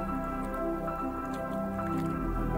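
Turnips washed in shallow river water on a farm, a steady squishing and sloshing of wet vegetables and water close by, under a constant mechanical hum.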